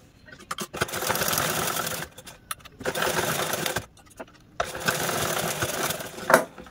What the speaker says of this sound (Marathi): अशा पद्धतीने हा फोल्ड करून घ्यायचा आणि यावरती आपण स्टिच करून घेणार आहोत